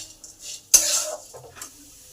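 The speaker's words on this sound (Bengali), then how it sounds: "নুন আর হলুদটাকে ভালো করে পেঁপের মধ্যে মিশিয়ে দিলাম।" A spoon stirs salt and turmeric through papaya in a pan, giving one clear scraping clatter against the metal followed by softer rustling and a faint sizzle.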